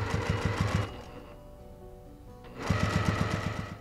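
Sewing machine stitching bias binding onto a quilt in rapid bursts of needle strokes, pausing for about two seconds before starting again, close and clear with no talk.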